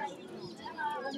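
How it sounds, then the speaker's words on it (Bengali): Pigeons coo at the Tuesday Dariapur pigeon market, a busy open-air haat, their soft calls mixing with steady crowd chatter and people talking nearby. "এখানে বিভিন্ন জাতের কবুতর পাওয়া যায়"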